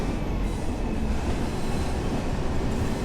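A British Rail Provincial Class 142 Pacer train runs steadily on the Blackpool South branch line, a continuous loud rumble of wheels and engine with faint rail squeal, close and uninterrupted, no voices.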